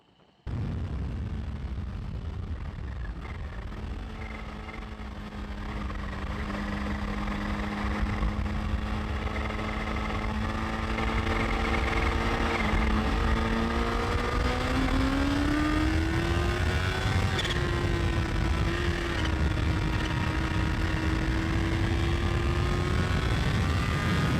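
A Kawasaki Ninja H2 supercharged motorcycle ridden flat out along a runway, its engine note climbing steadily for over twenty seconds, with a brief shift around seventeen seconds and heavy wind roar throughout.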